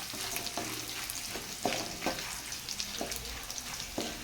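Dried red chillies fry in hot oil while a spoon stirs them, giving a steady close sizzle broken by several sharp scraping knocks against the pan, with no voices.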